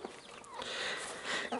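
Hens and chicks pecking at watermelon give soft, quiet clucks and murmurs close by, brief and low against faint background noise.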